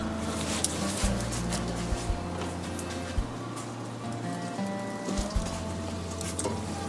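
A stew simmers steadily in a cast-iron potjie with a soft hiss, gentle bubbling and occasional small pops, close by and continuous.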